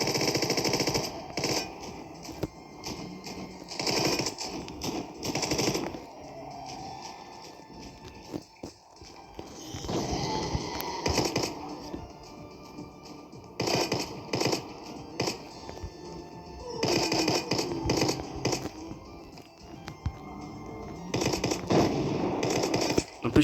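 A minigun firing rapidly in a Roblox zombie game, long loud bursts of dense mechanical gunfire broken by brief lulls, with other game sounds in between.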